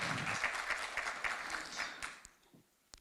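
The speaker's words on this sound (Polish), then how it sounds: "A Państwa proszę o brawa" Audience applause at a school staff thank-you ceremony in Poland, a steady burst of clapping from a room of people that thins out and fades over about three seconds.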